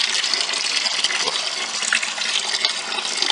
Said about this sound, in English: every time I go to siphon water, I get it in my mouth